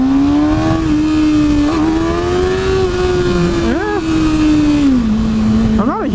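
A 2013 Kawasaki Ninja ZX-6R 636 motorcycle with a stock exhaust hums along at a steady engine note, with brief rising and falling revs about two-thirds through and again near the end, over constant wind rush.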